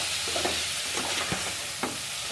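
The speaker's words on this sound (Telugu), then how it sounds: "మష్రూమ్ ఇందులో వేసేసుకున్నాక ఒకసారి అన్ని టమాటా ఇందులో పట్టేటట్టు ఒకసారి బాగా కలిపేసుకుంటాను." Mushrooms and tomato frying in oil for mushroom pulao, stirred with a utensil: a soft continuous sizzle with several distinct scraping stir strokes close by.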